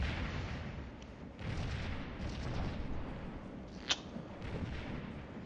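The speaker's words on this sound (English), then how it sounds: "So they're all counter battery firing there." Twelve-pound cannons trade counter-battery artillery fire in the Scourge of War video game, a faint, distant rumble of booms with one sharper report standing out amid the steady background.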